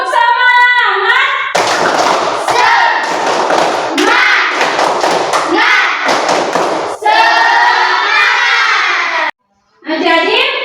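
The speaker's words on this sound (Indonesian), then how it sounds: "Tepuk semangat." Primary-school pupils in an Indonesian classroom perform a patterned spirit clap led by their teacher, loud close rhythmic claps and slaps mixed with children's chanting voices, with a brief pause near the end.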